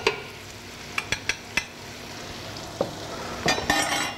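Onions sautéing in a pan for vegetarian chowder, with flour about to go in: a low steady sizzle under several sharp clinks and scrapes of a utensil stirring against the pan, close by with no talk.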